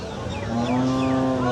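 A large two-toothed bull at a busy cattle market gives one long, loud, rising moo close by, with market noise faintly behind it.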